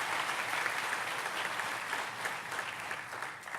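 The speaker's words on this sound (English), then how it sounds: "please give them a round of applause" Steady audience applause fills the hall at a sheriff's office awards ceremony, a dense continuous patter of many hands heard from within the crowd.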